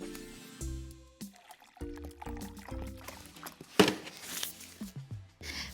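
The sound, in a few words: filling a big jar with water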